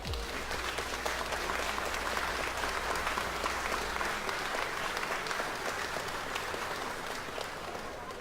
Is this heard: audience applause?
yes